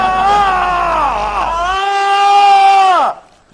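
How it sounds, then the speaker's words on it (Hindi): A man in an Indian TV comedy scene shouts loudly in one long, drawn-out yell whose pitch wavers and then slides down. It lasts about three seconds, is close and forceful, and is followed by silence. "तू क्यों चिल्ला रहा है?"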